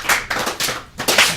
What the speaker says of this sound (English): That's a slow roll clap in.